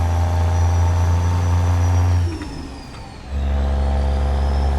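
A CAT 3176A truck engine in a truck driving game mod holds a loud, steady drone on the rev limiter, dips briefly into a lower, rougher note partway through, then returns to the same sustained pitch.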